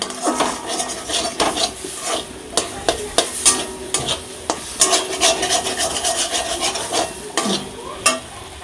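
A spatula scrapes and stirs a thick paste of small shrimp in a wok, with repeated sharp metal scrapes over a faint sizzle, close and fairly loud with no talking.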